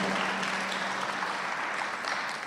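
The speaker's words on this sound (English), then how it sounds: "Yeah, we can clap for them." A church congregation claps for returning college students during a Sunday worship service, a dense steady wash of hand claps that holds evenly for a couple of seconds.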